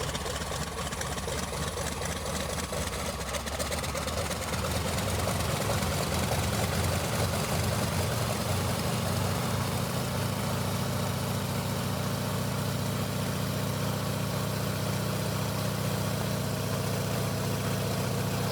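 A Sukhoi SU-31 aerobatic plane's engine, simulated in Microsoft Flight Simulator, runs up while held on the brakes, a loud steady propeller drone that rises in pitch and intensity partway through and then holds.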